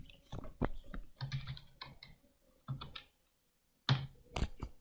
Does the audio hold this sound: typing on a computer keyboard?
yes